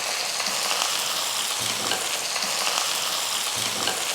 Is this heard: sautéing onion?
yes